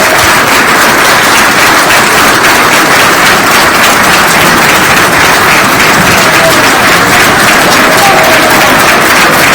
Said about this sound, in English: I know I just gave him a standing round of applause, but I think he deserves yet another one